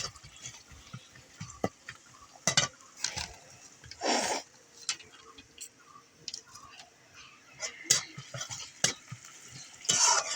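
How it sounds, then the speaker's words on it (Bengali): Onions fry in a pan while being stirred, with soft sizzling under a series of sharp scraping and clattering strokes, close and fairly quiet, without talk. "পেঁয়াজটাও ভাজা প্রায় হয়ে গেল।"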